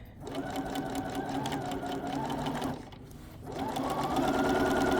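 A sewing machine runs steadily while stitching a one-inch hem on a pair of pants, a close, loud mechanical whir that pauses briefly and then starts up again.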